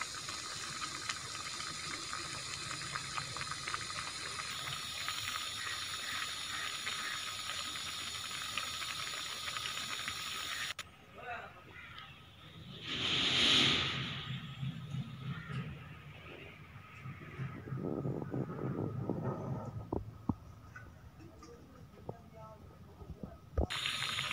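Water boils in a pot with a steady bubbling hiss that swells louder for a moment midway, then settles back.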